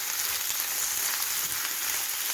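Liver and onions with garlic sizzle steadily in a pan for Alexandrian-style liver, a constant close hiss of frying with no talk.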